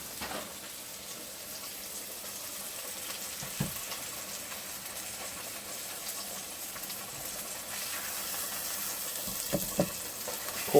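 A pot of cabbage boils hard to cook off extra liquid, giving a constant soft bubbling sizzle with a few brief clinks and thumps, close by and without speech.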